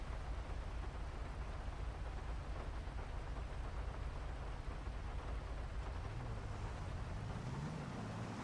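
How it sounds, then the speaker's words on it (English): Steady rain hisses throughout a roleplay video game scene, a dense broadband wash with a low rumble underneath and a faint rising tone near the end, with no talk over it. "I hate the rain here."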